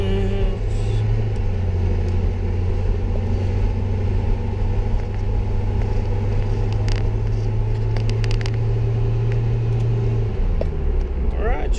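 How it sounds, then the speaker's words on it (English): A Jeep Wrangler engine still warming up drones loud and steady with low rumble as it drives around the block, while someone talks over it. "I'm just gonna drive around the block once or twice to get her up to operating temperature"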